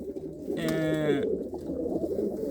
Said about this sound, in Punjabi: ਹੁਣ ਤੁਹਾਨੂੰ ਦਿਖਾਣੇ ਗਾਲੜ ਕਬੂਤਰ